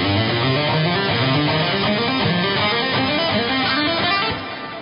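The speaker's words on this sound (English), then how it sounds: "The triplets should sound as triplets." A guitar picks a steady run of even three-note groups, the notes flowing in a regular, continuous rhythm before trailing off at the end.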